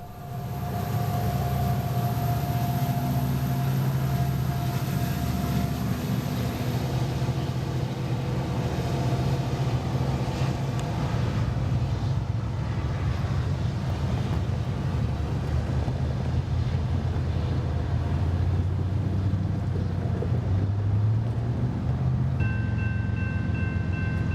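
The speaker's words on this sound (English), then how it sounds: "Bringing up the rear of the train is an original Burlington Northern SD70M in its original executive style paint colors" An original Burlington Northern SD70M locomotive in executive paint brings up the rear of a long BNSF coal train on the Fort Scott Subdivision, a loud steady diesel rumble and rolling wagon noise throughout, with a brief higher tone near the end.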